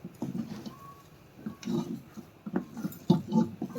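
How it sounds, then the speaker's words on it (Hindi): A mixture is stirred in a cooking pan with a spoon, making soft irregular scraping and knocking strokes, with occasional light clinks of utensil against metal, close and moderately quiet. "इसको हमें रेगुलर चलाते रहना है"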